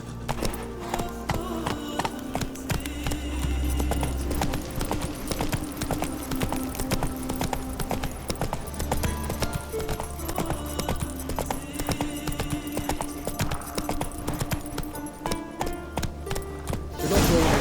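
In The Witcher 3: Wild Hunt, a horse gallops with steady, continuous hoofbeats and clip-clop that stay loud and close throughout, with a low rumble underneath.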